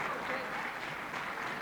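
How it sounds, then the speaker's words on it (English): Appreciative crowd applause in a gym at a girls high school basketball game, a dense, even patter of clapping heard from a distance, steady for the short stretch, with voices mixed in. "applause by the crowd"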